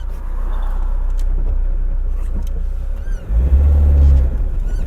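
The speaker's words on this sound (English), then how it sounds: "Alright, now let's try to accelerate to 100 km/h." A 1996 Lada Niva with a 70 horsepower engine and all-wheel drive accelerating, a loud, close, steady low engine drone that surges into a deeper, louder rumble near the end.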